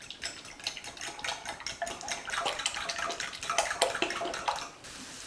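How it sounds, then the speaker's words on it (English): Water splashes and trickles into a bowl of eggs for scrambling, a close, continuous running-water wash that fades abruptly near the end, with no talking. "I like to add water to my eggs when I scramble them"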